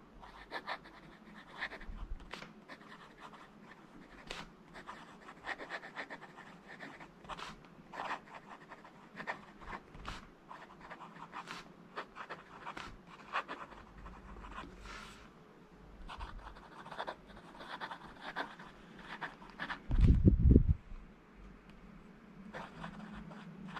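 A Lamy Studio fountain pen writes on the paper of a book, soft scratchy strokes in an irregular rhythm, close and faint, with a brief louder thump near the end.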